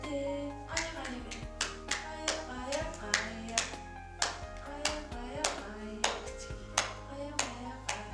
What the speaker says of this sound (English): This 9-month-old baby can imitate 2 movements, clapping and clenching,